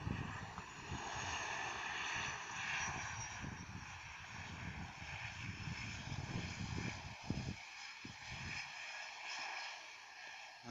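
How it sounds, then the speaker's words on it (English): Turboprop aircraft touching down at Jeff Mitchell Airport and applying reverse thrust, a loud continuous roaring whine with rumbling runway noise that eases off toward the end, heard from a distance. "Touching down at the Jeff Mitchell Airport, which needs some work to be done. Reverse thrusters."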